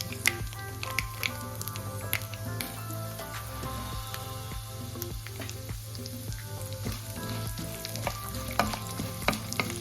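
Chana dal fries in hot oil together with dried red chillies, making a steady close-up sizzle. Sharp pops and crackles are scattered through it, and a low hum runs underneath.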